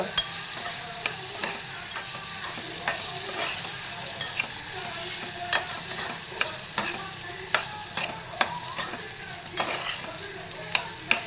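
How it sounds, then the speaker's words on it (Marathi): Stuffed bitter gourds stir-fried in oil in a pan, a continuous soft sizzle broken by regular sharp spatula scrapes and taps, close by, with no voices. "छान असतं तेल सुटेपर्यंत परतून घ्यायचं आहे कारलं मस्तपैकी"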